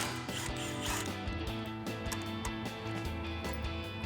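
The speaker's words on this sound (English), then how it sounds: "next we'll grab our impact and 12mm socket. We're gonna take these 2 bolts off so we can get our caliper off" An impact wrench with a 12mm socket rattles and buzzes in a steady mechanical hammering run while backing out brake caliper bolts on a 2022-2025 Toyota Tundra, close and loud.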